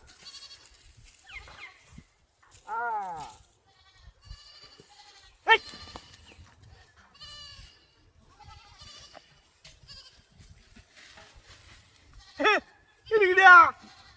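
A goat bleating in a rural setting, several wavering bleats heard near and loud, spaced out between stretches of people talking, with a louder pair of cries near the end.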